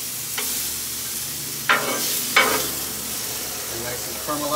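Onions and mushrooms sizzling in a pan with a steady frying hiss, broken by a few sharp stirring scrapes; no one talks.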